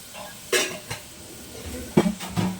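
Washed chana dal goes into oil in a pan, heard as a few close clattering knocks of utensil against pan and short bursts of sizzling.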